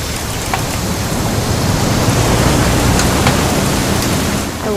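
Steady, dense rain pours in a video game scene in What Remains of Edith Finch, a loud continuous hiss of falling water with no voices over it.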